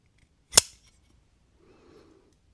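A Simeon Custom Knives Unto tanto knife gives one sharp, close metallic click, followed by a faint softer rattle about a second later, against a quiet background.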